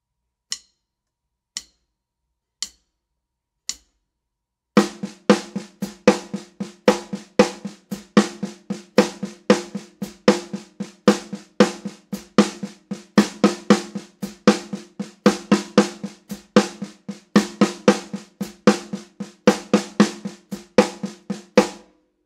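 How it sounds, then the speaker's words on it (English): A snare drum gives a few sparse, crisp strikes, then settles into a continuous, driving sixteenth-note pattern with uneven accents, close and alone. "Pattern B, played as 16th notes on just the snare drum, sounds like this."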